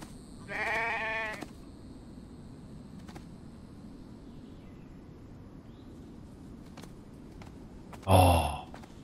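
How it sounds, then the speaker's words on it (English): A sheep bleats in the video game The Infected, one clear bleat early on over a quiet low ambient bed, followed later by a short louder burst of noise. "Looks like a sheep."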